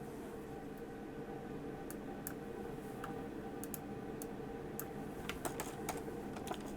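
Someone types on a computer keyboard in a quiet room, producing faint, irregular clicks that grow denser and brighter toward the end, with no talking.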